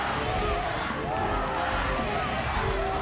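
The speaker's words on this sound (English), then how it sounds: "And the crowd is going wild." Roaring crowd at a Battle of the Nations 5 vs 5 armored fight, a dense continuous wall of cheering and shouting that stays loud and steady throughout.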